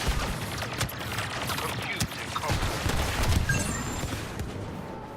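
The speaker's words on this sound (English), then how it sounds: "There's a few abilities like this missile." A missile ability fires in the Star Wars Battlefront II video game amid a dense barrage of blasts and gunfire, with booming impacts over a busy battle din and faint voices underneath.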